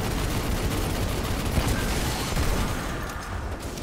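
Rapid, dense gunfire crackles continuously in Destiny 2, a loud sustained burst of automatic shots layered over game noise with no pause in between.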